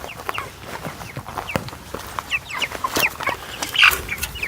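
Young backyard chickens around 39 days old, including a budding rooster, cluck and chirp in short irregular bursts close by, with a few sharper, louder calls toward the end.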